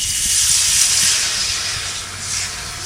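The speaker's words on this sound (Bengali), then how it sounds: "জল দিচ্ছি" Water pours into flour for puli pitha dough, a steady close hiss of a running stream that eases slightly toward the end, with no voices.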